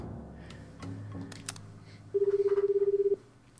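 A telephone is dialed in the video game 428: a few soft clicks and taps, then a quick, even run of about a dozen beeping tones that stops abruptly.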